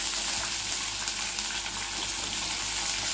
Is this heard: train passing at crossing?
no